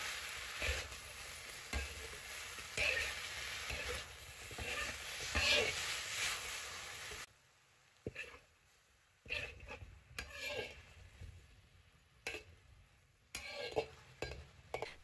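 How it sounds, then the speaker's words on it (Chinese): Cauliflower stir-fried over high heat in a wok gives a loud, steady sizzle with stirring scrapes for several seconds, then quieter, intermittent scraping and sizzling bursts. "菜也放进来，大火煸炒1分钟"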